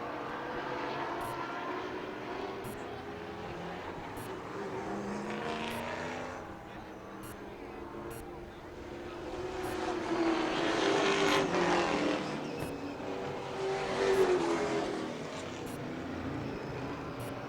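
Race cars lap a track, heard as a faint, distant engine drone that swells and fades as cars pass, with no talking.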